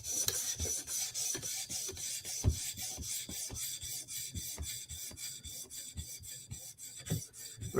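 A knife blade sharpened on a 400 grit whetstone makes rhythmic rasping strokes, a regular back-and-forth scrape repeating about every third of a second, close and alone.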